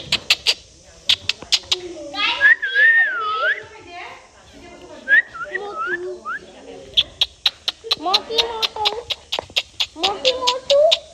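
A dog at a village mango orchard whimpers and yelps in rising, whining cries mixed with sharp short barks, close and loud, while children and others talk and play nearby.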